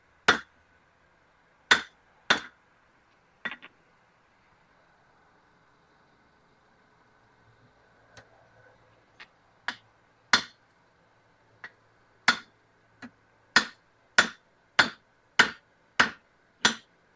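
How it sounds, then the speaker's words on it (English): A hot axe bit being hammered on the horn of an anvil during forge welding: sharp, ringing metal strikes, a few spaced blows, a quiet pause, then a fast, steady run of close, loud hits. "We're going to take this over to the horn of the anvil and kind of straighten it out a little bit."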